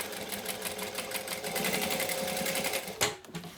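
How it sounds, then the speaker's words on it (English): Sewing machine running a continuous stitch along the bottom seam of a fabric bag, a steady fast mechanical chatter that stops abruptly near the end with a short clunk. "So I'm going to stitch along the bottom."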